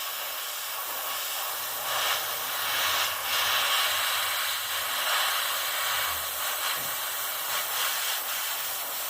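A Gaahleri Seeker airbrush sprays a top coat in a steady high airy hiss that swells and eases over several seconds, close and alone with no talking.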